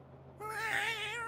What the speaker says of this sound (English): The cat got away.